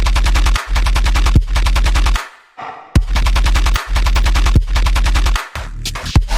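An electronic music mix plays with the Maximus limiter switched off, its loud punchy drums hitting in a fast, steady pattern over deep bass, with a brief drop near the middle.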